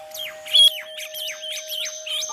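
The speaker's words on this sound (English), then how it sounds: "The common myna screeches warnings to its mate or other birds in case they notice predators in proximity" A common myna gives a rapid series of harsh, repeated chirps and screechy calls, close and clear, with a steady low tone running underneath.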